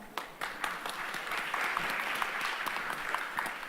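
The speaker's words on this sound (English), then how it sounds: "please give them another round of applause" An audience at a TICA and UNFPA ceremony applauds continuously, a dense crowd of claps sustained at even loudness throughout.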